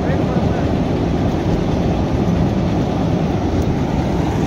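Train crossing the bridge at Rameshwaram, a steady, loud broadband rumble that holds evenly throughout without a break, with faint voices in the background.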